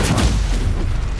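Stupefy spell cast in the game Hogwarts Legacy during combat, a short loud booming blast with a heavy low rumble, close and forceful, with no voice over it.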